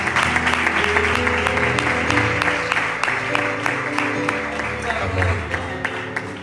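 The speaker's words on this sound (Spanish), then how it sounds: "Ese aplauso para Jesús." A church congregation claps in praise, a sustained, fairly dense applause with rhythmic clap accents running throughout, while a low hum of voices and tones sits beneath it.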